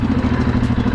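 A freshly rebuilt motorcycle engine running close by with a steady, rapid mechanical pulse and a throbbing exhaust beat; loud and brief, with no talking.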